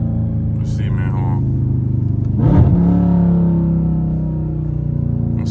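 A Dodge Challenger Scat Pack muscle car engine idles with a low rumble, then revs sharply once in first gear before settling back, close and loud, with someone talking over it, in cold weather.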